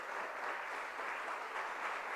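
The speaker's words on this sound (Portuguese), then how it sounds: "pode aplaudir ao Senhor" Church congregation applauding during a worship service, a dense, steady wash of clapping from many hands throughout, unbroken and fairly close.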